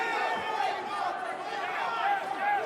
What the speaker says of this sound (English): The crowd is electric.